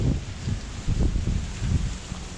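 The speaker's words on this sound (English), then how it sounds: "So you can still feel the wind." Gusty wind in the Cayman Islands just after Hurricane Beryl rustles through trees, with soft rushing bursts and buffeting against the microphone; no one speaks.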